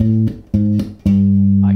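Electric bass guitar plays a short beginner bass line, three plucked notes in an even rhythm with the last one held and ringing out, close and clean with no talking.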